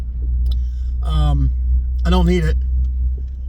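A truck engine idles with a steady low rumble heard from inside the cab, continuous beneath a man's close, clear talking.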